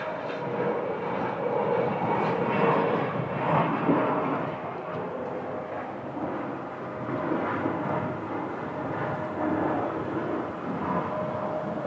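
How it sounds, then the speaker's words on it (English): A Delta Boeing 757-300 airliner at Phoenix Sky Harbor roars steadily for several seconds, a loud sustained broadband jet engine rumble with a faint whine, heard alone without talk. "And this plane is one of their 757-300s"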